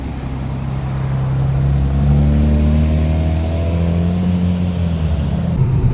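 Ram RHO pickup truck (2025, Eibach Pro lift kit) rolling into a repair shop bay, its engine a steady close low rumble with a slight rise in revs midway, running alone with no talk.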